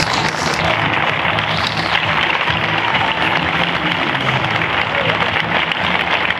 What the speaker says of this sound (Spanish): Fuerte el aplauso para ellos.